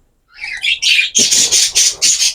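Several pet birds squawk loudly in a cage, a few rising chirps followed by a steady run of harsh, evenly spaced calls, close and with no talk.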